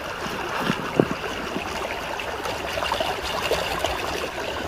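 Water runs steadily through a Dream Mat sluice box at a placer gold site, making a continuous close trickling wash with a few soft splashes and no voices.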